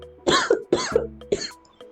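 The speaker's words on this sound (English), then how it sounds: "I'm laughing so hard that I'm fucking coughing." A person coughs from laughing hard, three sharp, close coughing bursts in quick succession, each with a raspy, voiced tail, with no speech.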